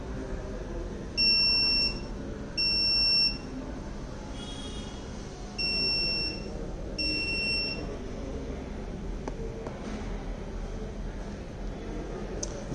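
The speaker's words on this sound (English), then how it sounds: "the new message will be received and the buzzer will be indicated" Buzzer on an IoT P10 LED notice board sounding after a message arrives, four loud electronic beeps in a paired rhythm over steady background hum, with no talk.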